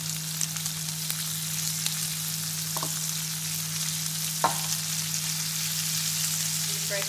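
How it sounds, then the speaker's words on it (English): Bacon, onion and fresh herbs (rosemary, thyme, sage) fry in a hot pan, giving a steady close sizzle throughout with a couple of brief stirring scrapes and no talk. "It smells fantastic, the bacon, onion, garlic and all the herbs simmering away"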